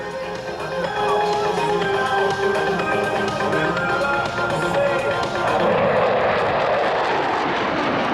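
A Lockheed C-130 Hercules of No. 37 Squadron makes a high-speed inbound pass at an Australian air show, its loud sustained propeller drone swelling and shifting as it goes by, with an announcer talking over it.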